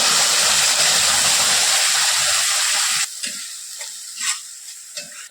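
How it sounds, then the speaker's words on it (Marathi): A loud, hissing sizzle of ground masala paste for rajma frying in oil over medium heat fills the first few seconds, then drops to quieter crackles and a few scraping stirs. "हे वाटण आपल्याला ह्या मसाल्यामध्ये गॅसच्या मध्यम आचेवर तेल सुटेपर्यंत छान परतवून घ्यायचं"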